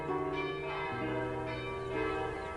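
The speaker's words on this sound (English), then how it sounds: "At that moment, the church bells began to ring." Church bells ring out in overlapping tones, several bells pealing with long sustained resonant notes and shifting pitches, heard at moderate distance with no voices.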